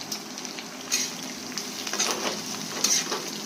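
Onion and bottle gourd pieces fry in a pan with a steady close sizzle, broken by a few light stirring scrapes and clinks, and no talking.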